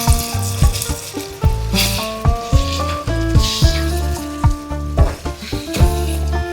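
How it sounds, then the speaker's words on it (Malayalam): Vinegar poured into a hot pan of mango-ginger pickle sets off loud, steady sizzling and spitting, with bursts of bubbling that rise and fall throughout. "ചൊറുക്ക് ഒഴിക്കാം."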